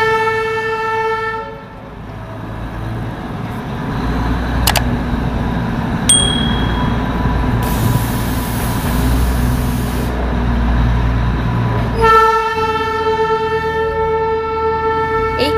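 A Darjeeling toy train rumbles loudly along the mountain track, its long steady horn sounding at the start and again near the end, with a brief bell-like ding in between.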